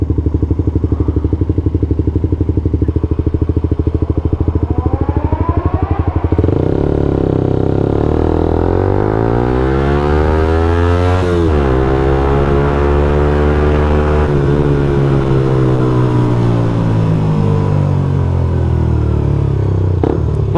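A motorcycle is ridden with friends, its engine loud and close, droning steadily and then revving up with rising and falling pitch as it accelerates through gear changes, with wind rush underneath.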